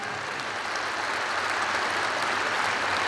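An audience at a Latvian State Police anniversary ceremony claps in dense, steady applause that stays even and full for the whole stretch, with no voices over it.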